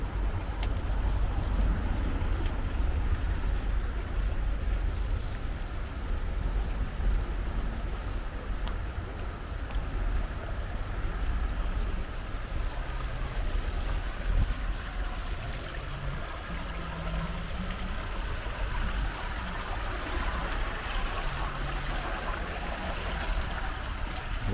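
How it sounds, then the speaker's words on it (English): Cicadas on a levada walk in Madeira near Funchal, a steady pulsing chirp repeating evenly over a bed of running water and distant low ambient rumble, with no talk. "We hear the sound of cicadas."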